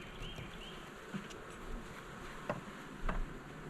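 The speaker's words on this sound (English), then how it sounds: "There's a bunch of bees on this one." Bees hum and buzz in a low, steady drone around a hive, with occasional louder passes close by and faint ticking sounds.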